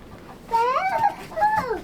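Two short, nasal bird calls sound close by, like chickens clucking, with a brief pause between them against a quiet background.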